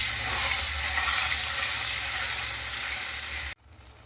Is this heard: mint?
yes